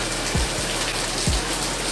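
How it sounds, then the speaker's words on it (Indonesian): Rain falls steadily on an outdoor ornamental fish pond, making an even hiss of drops hitting water, with a couple of soft low thumps and no voices. "Ini salah satu contoh dalam kondisi hujan"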